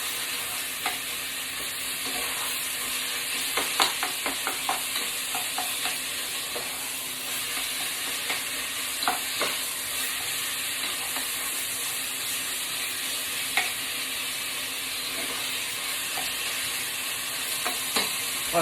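Lasagne meat sauce simmers in a pan with a steady sizzle and hiss, broken by repeated soft scrapes and taps of stirring throughout, close and without talk.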